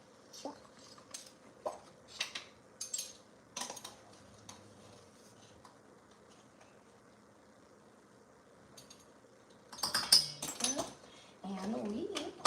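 Utensil clinking and scraping against a bowl while mixing salt and baking soda into a cake batter base, a series of sharp, intermittent taps close by, with a voice speaking briefly near the end.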